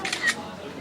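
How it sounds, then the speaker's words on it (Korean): A camera shutter fires in a few quick, crisp clicks close by, sharp and brief against a quiet background. "저 마지막 한 번 좀 찍을게."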